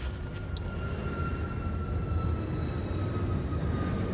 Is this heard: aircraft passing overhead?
yes